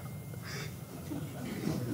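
Short toy-like duck quacks from a phone ringtone, two brief nasal bursts sounding faintly over a murmuring room of people talking.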